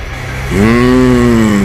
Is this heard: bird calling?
no